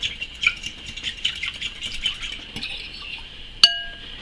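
Yeast and a tablespoon of organic sugar being stirred into warm water, a utensil clinking lightly and repeatedly against a glass or bowl, with one sharper ringing tap near the end.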